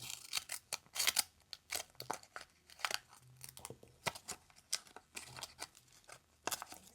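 Scissors snipping in quiet close-up, a series of crisp, separate cuts in uneven rhythm with short pauses and light rustling between them.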